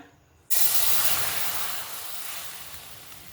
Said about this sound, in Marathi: आता त्याच कढईमध्ये आपण दूध घेऊया